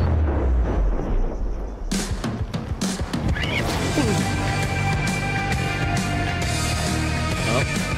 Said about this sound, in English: It's not on a timer, you're just blowing it up.